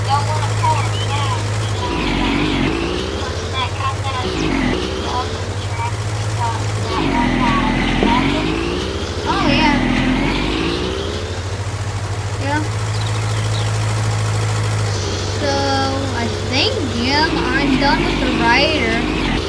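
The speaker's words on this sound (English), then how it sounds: "it's a powerful tractor" Garden tractor engine running while mowing a yard, a steady loud rumble that dips and swells as the load changes, with people talking over it.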